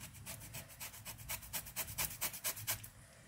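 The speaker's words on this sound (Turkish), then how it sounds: "Kabuğun sadece renkli kısmını rendeliyorum." A fine grater scrapes over the colored peel of a washed lemon in quick, even strokes, a soft rhythmic rasping heard up close and alone.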